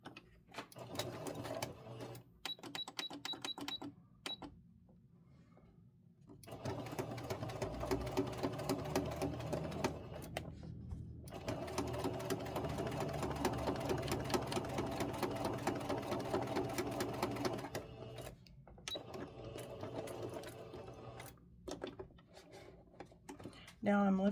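A sewing machine stitches a buttonhole in several bursts, running in long stretches broken by brief pauses, with light mechanical clicks between runs.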